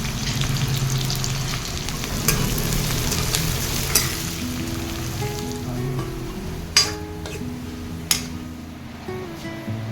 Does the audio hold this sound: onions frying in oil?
yes